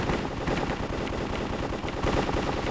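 Rapid automatic gunfire in a Minecraft game modded to play like CS:GO, a dense continuous burst of shots running the whole time with no talk.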